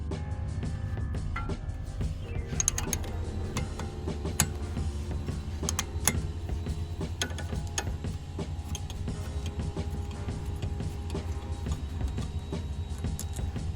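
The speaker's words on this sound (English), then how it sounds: "take out each of these top and bottom 13mm bolts" Ratchet clicks and metallic creaks as 13mm caliper bolts are loosened and backed out on the rear brakes of an Alfa Romeo Giulietta, with rapid ticking bursts and sharp taps, close and fairly quiet.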